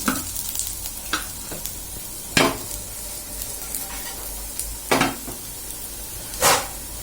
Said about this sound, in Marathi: आता आपण दुसरी साइड सुद्धा फ्राय करून घेणार आहोत. थोडंसं मी तेल घातलेलं आहे पुन्हा.